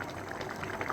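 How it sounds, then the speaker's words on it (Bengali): Pabda fish curry with mustard paste bubbles at a boil in a pot right after the lid comes off, a brief, close, steady burbling. "ঢাকনা খুলে দিলাম, মাছে বলক চলে আসছে।"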